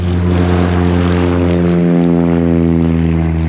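A Robin light aircraft's engine drones loud and steady at takeoff power while towing a glider aloft, the propeller hum close and constant throughout with no voices.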